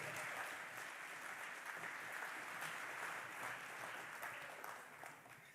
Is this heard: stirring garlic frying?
no